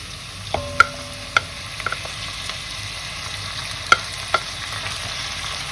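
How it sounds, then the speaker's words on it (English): Ground beef browning over maximum heat in a pan for an everyday family ragù, a steady soft sizzle with a few sharp clinks of stirring, without talk. "I turn the heat up to maximum because I want to brown this beef properly."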